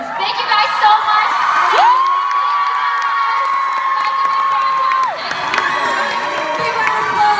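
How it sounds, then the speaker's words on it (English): A live show audience cheers, whoops and applauds in a steady, loud wash of crowd noise, with a sustained whistle-like tone rising above it midway before the roar carries on. "Big round of applause, Brooklyn, Bailey,"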